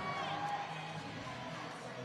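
A gymnastics meet crowd, BYU against Boise State, cheers at moderate distance, a sustained blur of voices and shouts with a brief whistle-like tone near the start, steady without sharp peaks.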